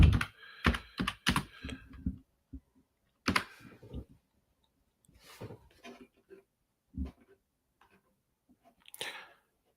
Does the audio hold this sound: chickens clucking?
no